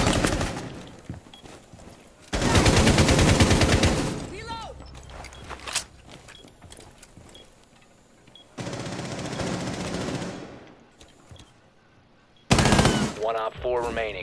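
Call of Duty gunfire, loud sustained machine-gun bursts in several separate volleys with quieter gaps, close to the listener, while someone talks between and over the shooting.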